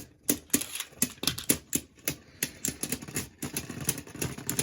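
Beyblade Burst tops Diabolos and Regalia spin and scrape against each other in a stadium, giving rapid irregular clicks and scratchy rasps in quick bursts throughout, close and fairly loud.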